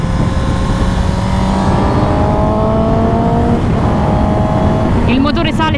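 A Suzuki motorcycle engine revs smoothly and loudly, its pitch climbing in steady, even sweeps over a constant road rumble, with a brief burst of higher-pitched noise near the end.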